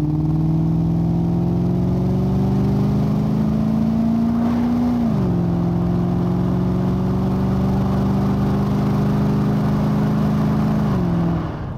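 A 1985 Aston Martin V8 automatic accelerates hard from inside the cabin, its steady engine drone climbing in pitch, dropping at a gear change around midway, then climbing again before another shift near the end.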